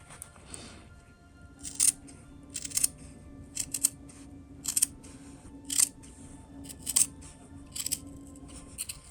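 Scissors snip pocket fabric on a sewn wallet, trimming beside the interfacing: about eight crisp, close cuts in a loose, uneven rhythm over a quiet room with a faint steady hum.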